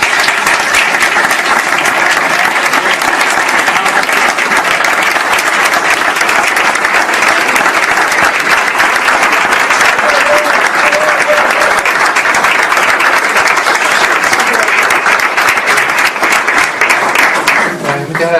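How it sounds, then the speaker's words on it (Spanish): Sustained audience applause at a school day event, loud dense clapping from a large crowd that runs steadily for most of the stretch before tapering off at the end, with voices faintly mixed in. "Yo les pido un aplauso para ellos"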